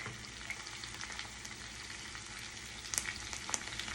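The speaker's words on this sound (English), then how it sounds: "some parsley and some jalapenos that I chopped up. And I'm gonna toss it in to my butter." Chopped jalapenos and parsley sizzle in butter in a hot pan, a steady, quiet crackling fry with a couple of brighter pops near the end and no voices.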